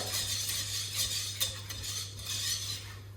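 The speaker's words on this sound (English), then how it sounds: "And whisk the whole time constantly." A whisk beating milk into a white sauce for moussaka in a pan, steady quick metallic scraping and clinking strokes, moderately close and continuous.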